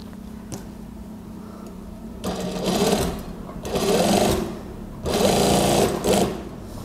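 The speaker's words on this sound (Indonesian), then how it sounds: "Oke, saya jahit sampai ke atas." A sewing machine stitches a Japanese zipper on the lining of a gamis cardigan. It runs in three loud, steady bursts of rapid whirring with brief pauses between them, and a low hum of the room sits under it.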